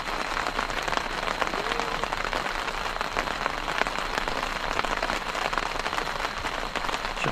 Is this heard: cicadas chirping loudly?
no